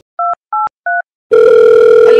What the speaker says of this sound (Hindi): छोरा कैक दिन लगेंगे फोन मिलाने में